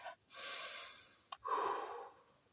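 An audible inhale then a slower exhale, close and fairly loud, as part of a calming breathing technique, with no talking.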